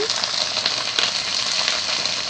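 Tomato, bay leaf, chili, turmeric and salt sizzling steadily in a hot oiled pan, a dense close crackling hiss without pause.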